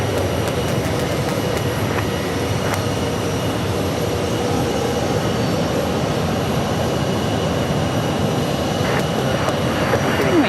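A SkyWest Embraer regional jet flying as American Eagle sits on the Phoenix Sky Harbor ramp, its engines giving a steady, moderately loud roar with a faint whine that holds evenly throughout.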